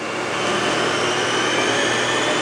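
The spindle of a Haas 5-axis vertical machining center spins at around 2,000 RPM, giving a steady, fairly loud close whir and hum with an even broadband rush and no voices.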